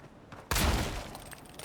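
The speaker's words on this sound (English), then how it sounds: "No one's noticed the gunfire?" A sudden burst of gunfire erupts in the fantasy video game Avowed after a quiet moment, a loud sharp blast followed by a decaying rumbling tail.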